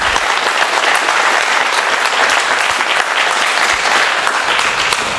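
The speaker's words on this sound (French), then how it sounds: "Et je vous demande de les applaudir." An audience at a lecture applauds a research team with steady, loud, dense clapping from many hands that holds evenly from start to finish, with no voices over it.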